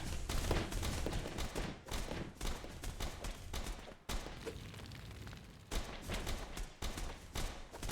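Rapid, repeated shotgun blasts in a video game, loud and close, firing in dense bursts with brief gaps between volleys.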